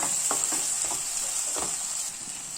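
Quarter kilo of cleaned mutton liver frying in a pan, stirred steadily: a constant close sizzle with several soft scraping stir strokes, and no voices.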